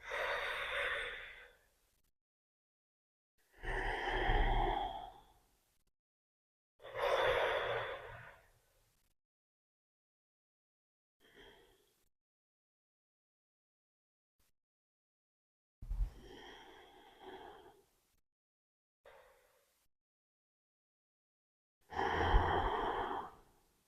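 Slow, deep breaths of a gentle yoga flow for stress relief: several long, audible inhales and exhales close to the listener, each separated by quiet pauses, with no talking.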